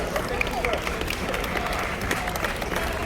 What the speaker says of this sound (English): Let's give it up for them a round of applause.